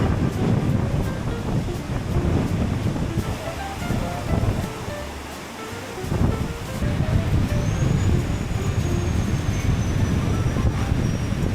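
Ocean waves breaking on the shore at Boracay in monsoon season, a constant loud wash of surf mixed with heavy wind buffeting the microphone, with faint distant voices and a brief high tone near the end.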